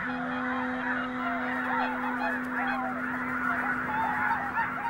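A huge flock of red-breasted geese taking off together fills the air with a continuous din of overlapping honking calls, loud and steady, over a faint constant hum.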